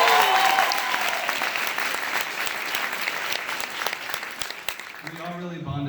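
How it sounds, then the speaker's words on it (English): An audience gives a colleague named Liz a dense, sustained round of applause that fills the room steadily before fading as a voice begins talking at the very end. "Let's give her a round of applause."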